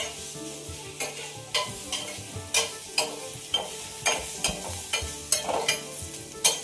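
Paneer coated in salt and chilli fries in oil in a pan, a continuous close sizzle broken by regular, rhythmic scraping stirs about every half second, with no voices.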